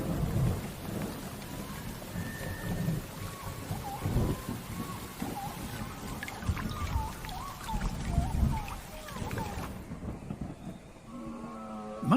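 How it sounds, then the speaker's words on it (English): A thunderstorm with heavy prehistoric-era rain, a constant roar of downpour beneath low rolling thunder that swells and fades, with a narrating voice and music over it. "There are violent storms and torrential rains."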